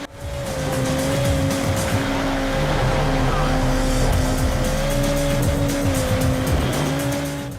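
Off-road racing cars from the PlayStation 3 game MotorStorm roar continuously at full throttle, with a steady engine whine, tire squeal and skidding over a dense, loud mix of racing noise.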